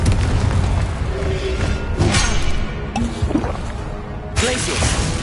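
A Confringo fire spell blasts in Hogwarts Legacy, loud bursting booms and crackling impacts layered over busy game combat sounds, with a voice speaking briefly.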